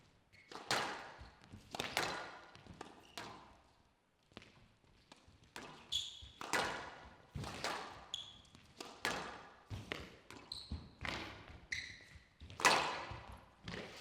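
Squash balls struck with cut during a professional men's world championship rally, including a backhand volley drop, heard as sharp, echoing thwacks and pings at an irregular rally rhythm, alone without talk.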